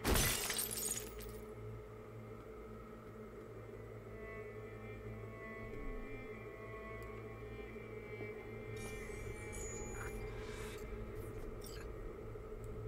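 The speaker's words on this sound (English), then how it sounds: "Should we smash the mirror?" A mirror smashed in Cyberpunk 2077, with a loud crash of breaking glass at the very start, then a steady low hum and faint rattles trailing on for several seconds.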